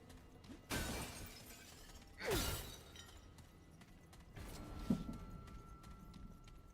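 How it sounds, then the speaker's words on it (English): Objects smashed one after another in the video game Remnant: From the Ashes, three separate breaking crashes spaced a second or two apart over a low game ambience. "And I'm still smashing stuff."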